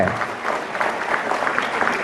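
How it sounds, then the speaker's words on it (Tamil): Brief, steady audience applause fills a hall during a humorous Tamil stage speech, with a crowd clapping together at a moderate, even level. "ஒரு கைத்தட்டல் கொடுங்க"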